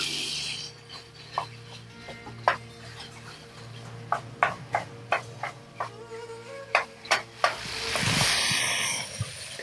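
Minced pork frying in a pan: a low sizzle under a rhythmic series of sharp scraping taps from a spatula, ending in a louder, rushing hiss.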